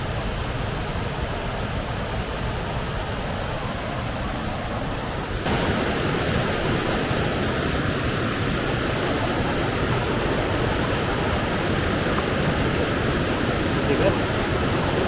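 Water cascades down the falls at Raven Cliff Falls, South Carolina, as a dense, continuous rushing roar that fills the whole scene without pause.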